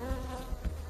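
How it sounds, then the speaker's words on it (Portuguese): Africanized honey bees buzz in a brief, close drone with a steady tone and small pulses of wingbeat, faint but clear. "Apenas 6 meses depois de chegarem aos Estados Unidos, as abelhas africanizadas anunciaram sua presença."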